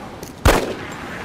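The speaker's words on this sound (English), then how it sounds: "I guess the gunshots do not actually trigger the voice meter" A single sharp gunshot in the video game DayZ bursts out, loud and close, then fades into a faint lingering tail over low background noise.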